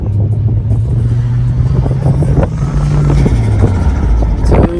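A car engine revs loudly up close, the low rumble swelling and falling in a couple of throttle blips, with a faint turbo spool whistle rising near the end.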